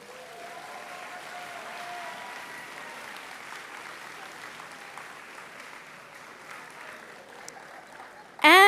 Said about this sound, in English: So let's thank the volunteers one more time with a loud round of applause.